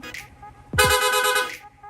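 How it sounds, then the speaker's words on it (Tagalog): An aftermarket rapid horn on a Sniper 155 motorcycle beeps in a rapid, continuous warbling burst lasting under a second, loud and close, after a brief low thump. "Rapid horn."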